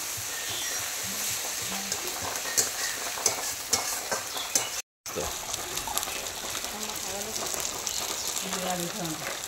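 Spice masala frying in oil for an egg curry gives a steady close sizzle with occasional spatula scrapes as it is stirred, while voices murmur faintly in the background.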